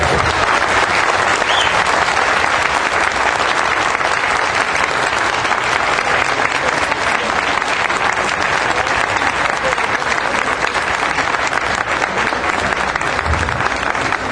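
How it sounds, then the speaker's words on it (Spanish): Sustained applause from a large crowd, steady and dense clapping throughout with no pauses. "Muchas gracias y un aplauso a Miguel."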